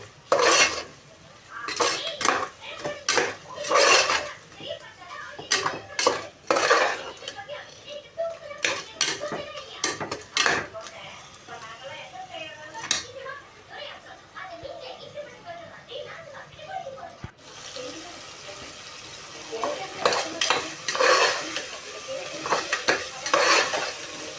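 Onions and green chillies sautéing in a pan for vegetable biryani, with a spoon scraping and clattering against the metal in repeated bursts over a soft sizzle, a voice talking at times.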